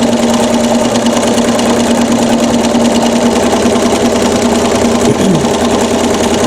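A sewing machine runs steadily while quilting a round wreath feather design, its loud continuous motor hum and rapid stitching carrying through the whole stretch with no talk.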